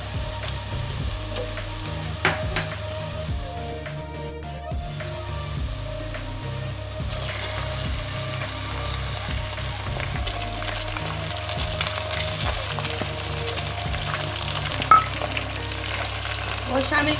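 Chopped onions frying in hot oil for a Karachi-style biryani, a steady soft sizzle running throughout with faint clinks and stirring scrapes, close and moderately loud, no talk.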